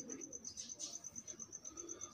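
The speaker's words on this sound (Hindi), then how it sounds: "ये भी माशाल्लाह सलेटी है और ये मियाँ साहब के सलेटी कबूतरों में से निकली हुई है" A Salety pigeon, a slate-grey Bichoo breed bird, coos softly in a loft, a faint rhythmic series of low throaty pulses close by, with a steady high electrical whine in the background.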